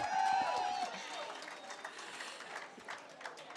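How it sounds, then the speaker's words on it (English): At a Colorado midterm victory speech, a crowd applauds for the opponent in a moderate, sustained patter of clapping, with a voice briefly audible at the start. "She deserves a round of applause."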